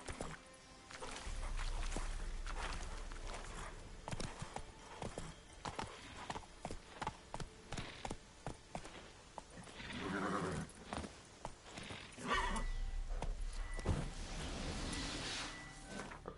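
Hoofbeats of a horse trotting in The Witcher 3, rhythmic clip-clop in bursts with a brief whinny midway, set against game ambience and a faint voice.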